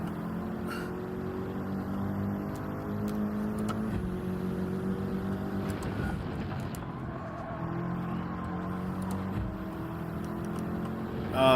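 Race car engine in Gran Turismo 7 during an online Nations Cup race, a steady loud drone with shifting pitch as it revs and holds speed, continuous for the whole stretch with no speech over it.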